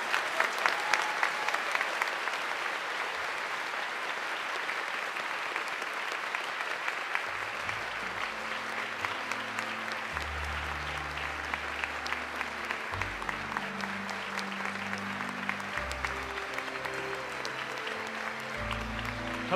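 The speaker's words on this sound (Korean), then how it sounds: "다 같이 큰 박수로 환영의 박수로 참부모님을" A large congregation applauds loudly and continuously as honored guests are welcomed to the stage, and organ-like music swells in partway through beneath the clapping.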